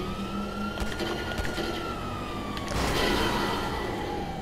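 A police car siren in the video game GTA 5 wails in long sweeping tones over rumbling engine and traffic noise, growing louder and more intense partway through.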